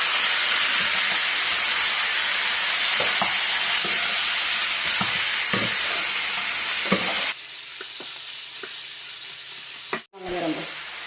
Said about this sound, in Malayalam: ഇനി അതിലേക്ക് നമ്മൾ റെഡിയാക്കി വെച്ചിരുന്ന ചിക്കൻ അത് ചേർത്ത് കൊടുക്കാം.